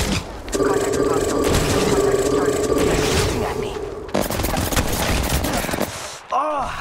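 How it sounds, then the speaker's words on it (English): Rapid gunfire in Apex Legends Mobile, a dense sustained burst of automatic shots over a game soundscape, then sharper separate cracks near the end, with a voice talking throughout. "They're shooting at me."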